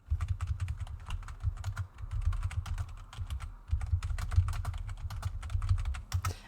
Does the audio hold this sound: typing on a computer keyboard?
yes